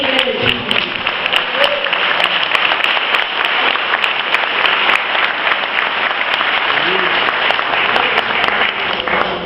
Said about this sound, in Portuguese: Agora, as suas mãos levantadas, aplauda o nome dele.